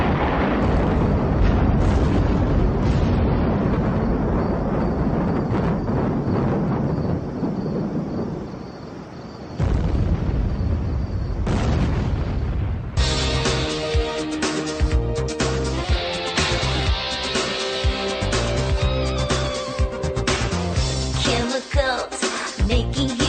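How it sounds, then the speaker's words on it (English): Big chemical reaction explosions produce deep, rumbling booms and sustained roaring blasts, loud and continuous throughout, with a harsher crackling layer joining midway. "Chemicals making huge explosions."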